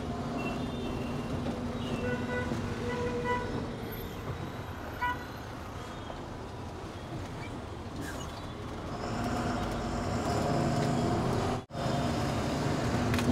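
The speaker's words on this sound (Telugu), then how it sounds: "ట్రాఫిక్ జామ్ అయింది" Stalled traffic jam near the Goa border, with a steady rumble of idling trucks, cars and buses, scattered horn toots and a reversing beep, continuous and fairly loud throughout, with no talk.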